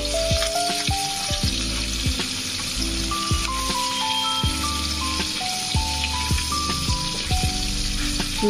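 Fish sizzles and spits in a pan over a medium gas flame, a loud, steady frying crackle running throughout with no one talking.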